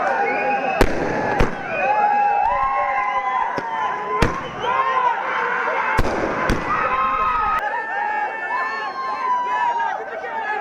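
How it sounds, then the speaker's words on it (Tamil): Firecrackers burst at a fans' celebration before a film's first show, sharp loud cracks going off irregularly, several close together, over a noisy crowd and shouting. "முதல் காட்சி தொடங்குவதற்கு முன்பு பட்டாசு வெடித்தும் மேளதாளத்துடன் கொண்டாட்டத்தில் ஈடுபட்டனர்."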